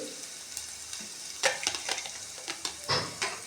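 Garlic and grated ginger fry in hot oil with a steady soft sizzle, while a spoon stirs and scrapes the pan in a series of sharper bursts.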